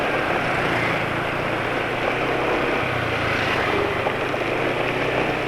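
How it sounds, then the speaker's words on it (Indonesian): A steady motorcycle engine drone, running roughly, mixed with a broad rushing roar, continuous and fairly loud throughout, with no voices. "suara mesin udah mulai kasar juga"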